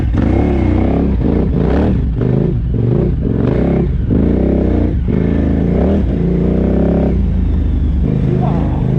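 A KTM 990R dual sport motorcycle engine on a night ride, loud and close, its revs rising and falling repeatedly with rough clatter, while a voice speaks over it.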